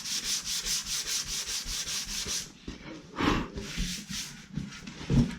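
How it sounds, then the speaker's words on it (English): Hand sanding the guide coat on a Yamaha Vmax fuel tank with 240 grit paper, a close rhythmic back-and-forth rasp of about a dozen quick strokes, then slower, heavier rubs, no talking. "rub this all down with 240 grit"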